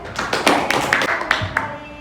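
A classroom of students claps for the consumer group's presentation, a brief scattering of uneven, separate hand claps lasting about two seconds.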